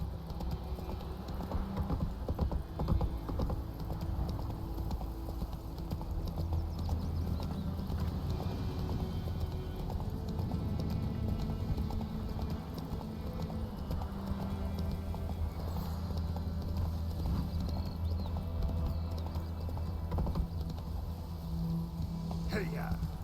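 Roach, the Witcher 3 horse, runs on for a long stretch, hoofbeats pounding in a continuous even rhythm, with a voice speaking now and then over the gallop.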